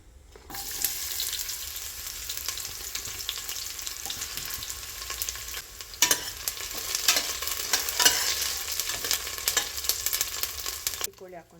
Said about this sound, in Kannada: ಈರುಳ್ಳಿ ಹಾಕ್ಕೊತಾ ಇದ್ದೀನಿ.